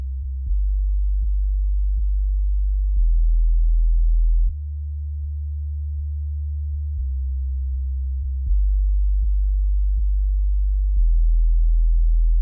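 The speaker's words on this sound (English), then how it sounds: "The sound is a simple sine wave being generated by Serum." Sub bass sine wave from the Serum synthesizer, a pure low tone playing alone in sustained notes that shift pitch every second or two, steady and loud with soft clicks at each note change.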